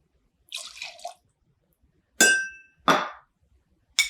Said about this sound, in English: Just pour it right into this little jigger here.